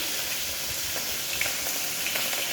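Fish pieces fry in hot oil with a steady, bright sizzle and crackle that holds evenly throughout, close and without any talking.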